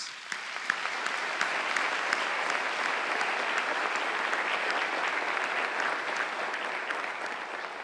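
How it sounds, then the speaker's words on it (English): Audience applause at a State of the City address, a steady wash of many hands clapping throughout, moderately distant and even in level, with a few sharper claps near the start. "I want to give all of them a big round of applause."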